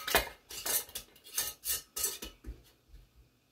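Metal canning lids being screwed onto hot jars, a string of about eight short rasping twists and clinks in an uneven rhythm, close and fading toward the end, with no voices.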